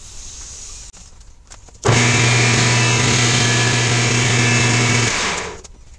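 A small machine tool cuts a custom bass guitar knob part. The motor spins up abruptly into a loud, steady whine with a buzzing hum underneath, runs for about three seconds, then winds down. No one speaks.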